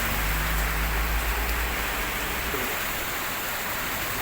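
Steady, dense cloudburst rain pours down with a constant broad hiss and no voices, a low rumble fading partway through.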